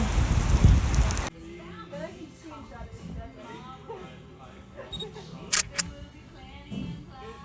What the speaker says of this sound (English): so it stopped raining as hard, it's still raining